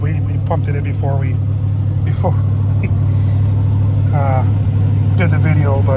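A 1983 15th anniversary Hurst Olds, parked since 2002, idles with a steady low engine rumble throughout while someone talks over it close by.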